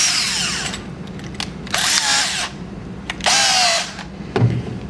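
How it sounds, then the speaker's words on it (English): A power drill whirs in three short bursts, boring into a wooden stand leg with a rising whine each time. Shuffling and handling noises fill the gaps between bursts. "we're going to drill in till the tape hits the surface of this leg."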